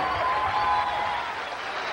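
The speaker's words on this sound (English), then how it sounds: "have a big applause for the Crickets" An audience applauds the Crickets at a Buddy Holly tribute show, a dense, steady wash of clapping and crowd noise sustained throughout at moderate loudness.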